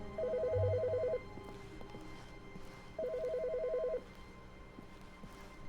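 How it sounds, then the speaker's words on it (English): A telephone rings in the video game The Stanley Parable, two clear electronic double-pulse rings about three seconds apart, close and alone over a faint room hum. "The phone is ringing."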